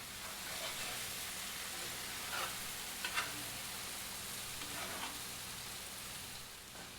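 Okra frying in a mix of butter and olive oil gives off a steady, even sizzle throughout, with a few brief louder crackles rising above the hiss.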